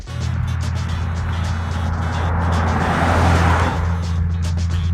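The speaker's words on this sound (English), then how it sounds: "I'm just hearing some big trucks on the freeway" Steady low rumble of heavy freeway traffic, big trucks droning past at a distance with wind noise over the top, continuous throughout.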